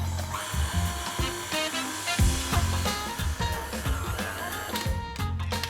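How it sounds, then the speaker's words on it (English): A stand mixer kneading bread dough at a higher speed gives off a steady, fairly loud motor whir and grind that wavers slightly and keeps going without pause, with no talking. "you can increase the speed of the mixer."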